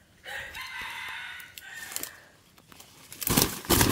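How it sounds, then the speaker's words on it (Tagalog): Rooster crows near the start with a long drawn-out call, followed by softer clucks from a hen and then bursts of flapping wings toward the end, fairly close and with no talking. "Ito yung inahin natin."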